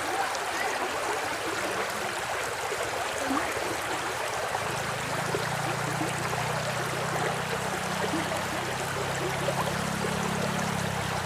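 A clear, shallow river in Batangas City flows steadily nearby, its broad continuous rush of water holding an even level throughout with no voices over it.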